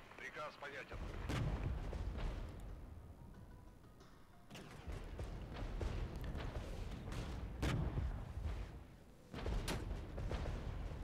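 Artillery fire booms repeatedly in a Cold War tank battle game between Soviet forces and NATO, heavy blasts recurring every few seconds over rumbling combat noise.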